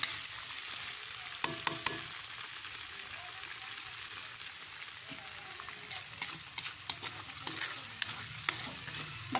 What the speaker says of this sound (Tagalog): Kaya alam na, nagluluto na ang latik.